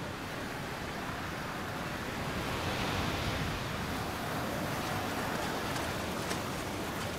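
Waves of a rising tide wash continuously over the shore where seal pups lie, a dense, even roar of surf with no voices.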